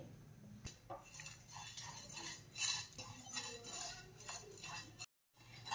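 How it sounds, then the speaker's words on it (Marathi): Whole coriander seeds, cumin, a cinnamon piece, cloves and peppercorns dry-roasting in a pan for dabeli masala, with steady light rattling and clinking of spices and utensil against metal, close up, and a brief silent gap near the end. "आता हा मसाला आपल्याला छान भाजून घ्यायचा आहे"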